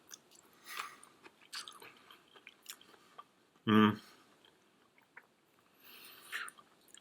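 Pickles from a Jordanian 24-hour ration are chewed in a quiet setting, with soft wet mastication sounds and one sharp, loud crunchy bite in the middle.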